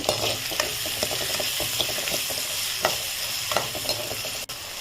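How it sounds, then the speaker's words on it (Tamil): Onions sautéing with salt in a pan for radish sambar sizzle steadily nearby while a spoon stirs and scrapes in repeated taps and knocks. "வெங்காயம் நல்லா வதங்கிட்டுருக்கு"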